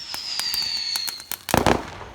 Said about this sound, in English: It's a firework that sounds like an airplane.